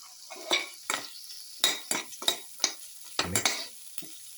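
Mixed spices are stirred and fried in a pan while a utensil scrapes and taps against the metal in repeated short strokes, each with a light sizzle, close and fairly quiet, without talking.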